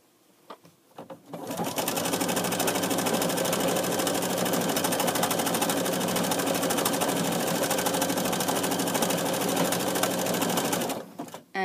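A sewing machine runs a complicated decorative stitch to attach bias tape, a loud, close, continuous rapid mechanical whir with a dense ticking pulse that holds steady for about ten seconds before cutting off.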